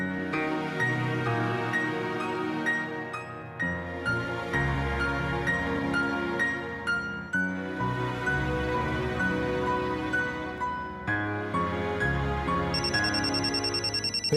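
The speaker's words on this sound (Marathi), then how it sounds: "अरे फोन घे, बोलतो किती. फोन घे आधी." A telephone rings in a household scene from a Marathi TV serial: a continuous, loud electronic ringtone melody repeats in steady cycles for the whole stretch, with no talk over it.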